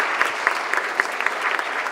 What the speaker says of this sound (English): I would like to, just applaud.